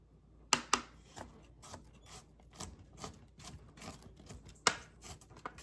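A knife chops onion on a cutting board during home cooking: a run of sharp, irregular taps, two louder strikes near the start and another toward the end, with quieter cuts between, close and fairly quiet.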